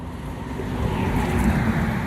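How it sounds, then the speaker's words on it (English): A bus rolls past on a road in Cambridge, a low rumbling engine swelling closer and louder with faint traffic noise around it. "Oh, here's a bus."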